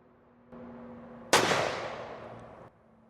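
A single loud rifle shot from a Bergara Crest Carbon chambered in 7 PRC, a sharp crack followed by a long rolling echo that fades over about a second, with faint low background hum before and after.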